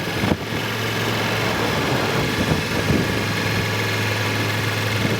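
A motorcycle engine runs at steady throttle during slow-speed circle and figure-eight riding practice, a loud, even, close drone with a constant hum and no talk over it.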